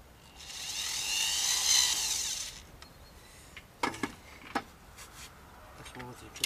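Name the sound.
power screwdriver driving self-tapping screws into a plant fence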